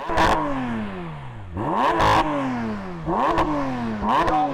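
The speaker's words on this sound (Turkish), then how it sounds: "Atmosferik düz altı silindirli motoru dinleyelim." Naturally aspirated flat-six car engine revved hard several times, close and loud: each blip climbs sharply then winds down in a falling drone, repeating about four times with a rasping mechanical edge.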